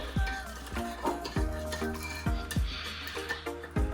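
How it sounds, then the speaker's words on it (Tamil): Bananas are mashed in a bowl for pancake batter, making repeated clinking taps of utensil against the bowl in an uneven rhythm, close and moderately loud, with soft squelching between strikes. "பனானாவை மேஷ் பண்ணணும் நாங்கள்"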